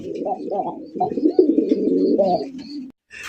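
Pigeons coo at a pigeon farm: close, repeated throaty rolling calls that overlap almost continuously for about three seconds before a brief pause.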